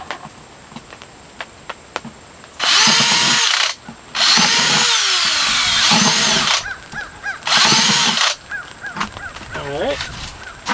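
Power drill boring holes in a cattle panel greenhouse build, three loud sustained bursts of a few seconds each with short pauses, close by, with a voice and birds between them.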